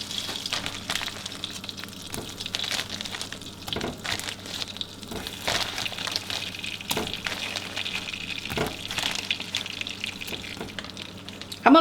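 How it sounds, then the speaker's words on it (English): Large marshmallows melting in butter in a pan, giving a steady low sizzle and wet bubbling throughout, with occasional scraping from stirring and a brief knock at the end. "let's add our marshmallows and let them start melting in there"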